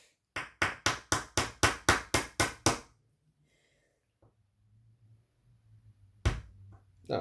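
A small watch hammer tapping JTElectric split model railway rail joiners: nine quick, evenly spaced close taps, then quiet with faint handling noises and one more sharp knock near the end.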